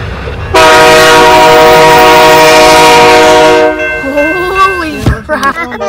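A loud, sustained train horn blares close by for about three seconds as a train passes at a crossing, then cuts off into rumble and excited voices.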